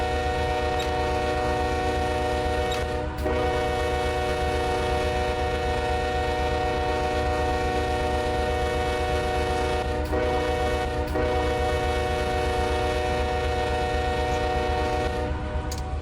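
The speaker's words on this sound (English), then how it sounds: "Do a little horn action here." A diesel locomotive horn in the Run 8 train simulator, running light engines from Waycross to Jacksonville, sounds in long sustained blasts with brief breaks, loud and steady over a constant engine rumble.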